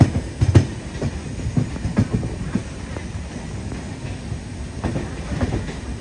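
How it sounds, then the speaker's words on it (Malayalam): An express train rolls into Tambaram railway station, with rhythmic clickety-clack of wheels over rail joints, rumbling carriages and occasional clanks, moderately close and steady throughout. "താമ്പരം റെയിൽവേ സ്റ്റേഷനിലേക്ക് ഇതാ നമ്മുടെ ട്രെയിൻ എത്തിക്കൊണ്ടിരിക്കുകയാണ്"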